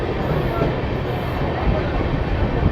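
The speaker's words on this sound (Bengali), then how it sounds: "বর্ধমান স্টেশনের 1 নম্বর প্ল্যাটফর্মে ট্রেন এসে পৌঁছালো" The 12311 Howrah–Kalka Netaji Express, running with LHB coaches, rolls into platform 1 at Bardhaman station after rain, a dense, continuous, close rumble of wheels and carriages.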